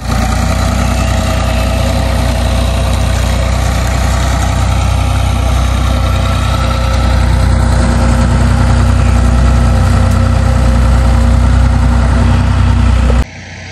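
A tractor engine idles steadily beside a sugarcane field, a continuous low rumble with a droning hum that holds nearly unchanged for about thirteen seconds before cutting off abruptly.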